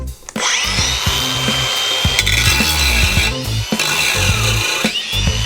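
A Makita 18-volt angle grinder runs at maximum speed while sanding, a loud continuous abrasive whine with shifting grinding tones and a couple of brief dips as the disc bites, close and alone.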